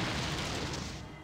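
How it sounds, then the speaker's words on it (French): A padlock is blown apart in Fallout 2, giving a dense, rumbling, noisy blast that stays loud across the whole moment before trailing off slightly at the end. "l'explosion a détruit le cadenas sur l'objet"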